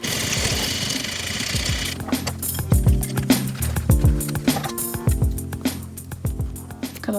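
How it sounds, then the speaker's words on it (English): A sewing machine stitching a fabric scrunchie runs in a steady whirring buzz, broken into short rapid bursts with clicks and thumps from starting and stopping. "I'm gonna sew front and back because I missed this whole entire row."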